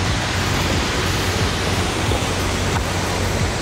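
Palouse Falls in a Washington state park pours with a steady, dense roar of rushing water that fills the whole moment at an even loudness, with no voices.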